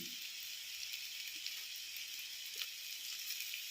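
Ginger garlic paste and mint with curry leaves sizzling in hot oil, a soft, steady hiss with occasional faint crackles, quiet and continuous, no voice.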